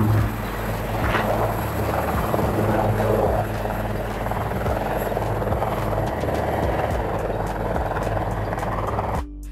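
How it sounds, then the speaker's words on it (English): A utility helicopter flies close by, its rotor thumping in a continuous loud roar with engine whine, cutting off abruptly at the end. "Utility helicopters are multi-purpose aircraft"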